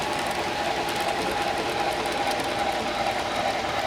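Model trains running on a large museum layout in Texas City, a dense continuous whirring and rattling drone that stays steady and fairly loud throughout, with no clear talk.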